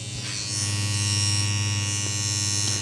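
A cheap tattoo machine runs with a steady, close electric buzz and low humming drone, constant in level with a few faint clicks, no voices over it.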